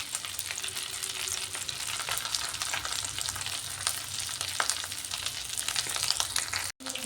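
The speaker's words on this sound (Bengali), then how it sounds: "ডিমগুলোকে একটু কড়া করে ভেজে নিচ্ছি।" Eggs fry crisp in hot oil for a South Indian style egg dish, giving a steady, dense sizzle and crackle close by, with a brief break near the end and no talking.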